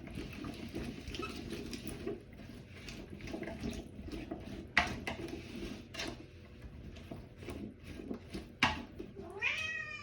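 A house cat meows in a kitchen while potatoes with lardons are being prepared in a microwave cooker, the calls brief and mid-distance over running tap water and clattering utensils, with a rising call near the end.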